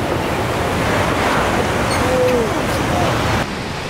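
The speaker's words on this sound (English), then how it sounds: "We're back at the ocean once again." Ocean surf at Santa Monica beach, past the pier, makes a broad, steady wash of breaking waves, loud and close, with a little wind and a few faint higher calls drifting over it before it eases slightly near the end.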